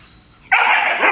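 A standard poodle lets out a sudden loud bark that stretches into an excited yelp after a moment of near silence, close by and with no one talking.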